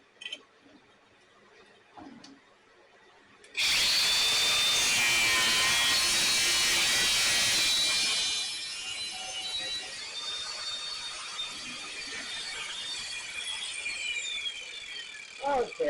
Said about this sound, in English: we're going to go ahead and cut them off with the old trusty angle grinder